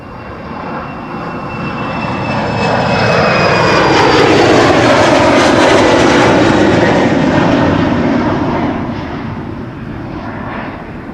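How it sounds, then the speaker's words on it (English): A KLM Embraer 190 jet passes at Amsterdam Schiphol's Polderbaan runway, its engine roar swelling loud and close with whining tones sliding down, peaking midway and then easing off, with no voices. "KLM flight 1233, an Embraer 190 that goes to question mark"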